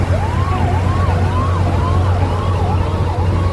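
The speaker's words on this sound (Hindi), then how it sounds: "तो गाइस देखो ये एम्बुलेंस है" A loud, close ambulance boat siren at Paradip Port, Odisha, India wails in a rapid rising-and-falling cycle, repeating steadily over a low engine hum.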